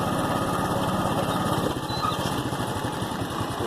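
A motorbike engine running close by in a village just off the road, a steady, rapid putter of rhythmic combustion pulses that holds constant throughout with no talk.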